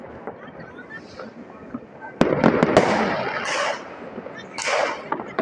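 New Year fireworks burst with a sharp loud bang followed by fizzing, crackling bursts, against a quiet ambient background.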